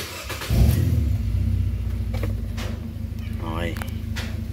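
A Nissan Almera with a power-loss fault cranks and starts, then settles into a steady low idle rumble close by, with brief faint voices over it.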